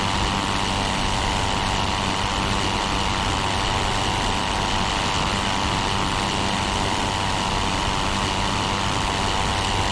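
A Pfalz E.II's rotary aircraft engine drones steadily under loud rushing wind in the Rise of Flight flight simulator while climbing. The drone is constant and dense, with no breaks, for the full ten seconds.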